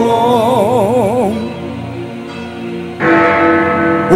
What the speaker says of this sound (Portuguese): O sino da igrejinha faz Belém, Belém, Belém.